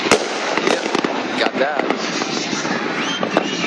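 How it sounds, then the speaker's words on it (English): New Year's fireworks pop and crackle in rapid, overlapping bursts at close to moderate distance, with a person briefly speaking over them. "Every flash you see, that's fireworks"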